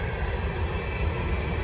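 A Herzog ballast train rolls past Depew Amtrak station at night, a loud, steady rumble of heavy wheels on rail filling the scene without pause.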